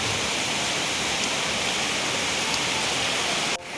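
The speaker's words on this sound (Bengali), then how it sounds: "অসম্ভব বৃষ্টি হচ্ছে" A torrential downpour roars outside, loud and unbroken, before the sound drops suddenly to a quieter level just before the end.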